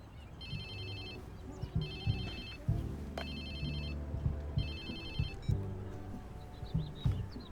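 A phone ringtone in the video game Watch Dogs 2 chimes in three repeated electronic bursts, each a warbling multi-tone trill, over a busy bed of low rumble and music-like background sound.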